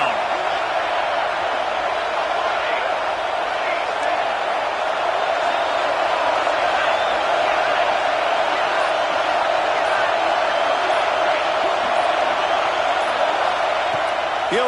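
Stadium crowd in the College Football 26 video game, a loud continuous roar of cheering that holds steady throughout, with no talk over it.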